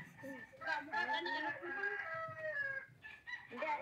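A rooster crowing and clucking nearby, several drawn-out calls in succession, fairly faint and alone with no talk.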